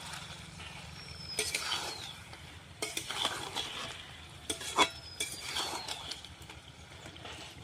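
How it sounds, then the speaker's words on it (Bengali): Chicken kosha being stirred in a frying pan, with a spoon scraping and clacking against the pan in bursts over a soft, steady sizzle; no voices. "ভালো করে মিশিয়ে নিব দেখুন কালারটা কেমন চেঞ্জ হয়ে গেছে"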